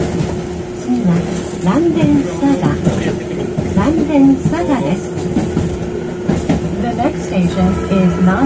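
The Randen tram near Arashiyama in Kyoto rumbles and clatters along under onboard announcements and passengers talking, a steady low drone with occasional rattles.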